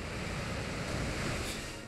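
Surf move in the Pokémon Omega Ruby video game: a steady, full rushing wash like breaking waves, holding at an even loudness for about two seconds with no voices.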